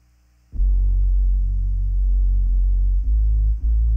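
A sub bass with added distortion through the NEOLD BIG AL saturation plugin kicks in after a brief quiet start, a loud deep buzzing drone with slight pulsing dips, sustained alone without talk.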